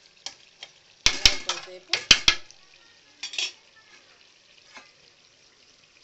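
A spoon stirring curry cooking in oil in a pan, with metallic scrapes and clanks against the pan in bursts over a soft sizzle, close and fairly loud, while someone speaks briefly.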